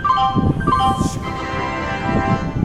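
A railway station announcement chime rings out as a bright multi-tone electronic melody with sustained, overlapping notes, loud and clear over a busy background murmur of crowd noise.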